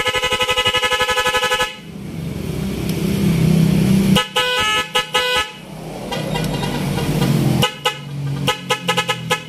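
A viral Nhay 3+ Pro music horn fitted to a TMX 125 motorcycle blares loudly up close, a sustained tone giving way to a series of melodic musical horn phrases with rapid pulsing notes.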